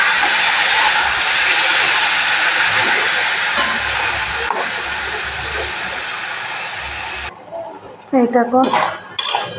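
Sattu being stirred with onions while frying in a pan, a steady loud sizzle and hiss with spatula scrapes and clinks against the metal, ending in a few brief bursts of talk.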